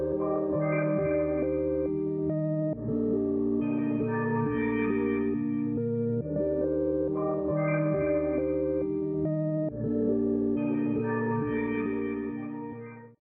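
A layered synth phrase repeats twice, its sustained chords trailing into echoing delay repeats, steady and full with a wide, reverberant wash that fades at the end.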